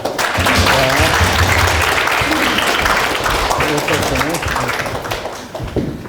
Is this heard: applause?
yes